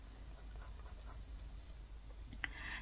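Watercolor pencils scratch softly across paper in short, faint strokes while coloring, with a slightly sharper tap near the end and no talking.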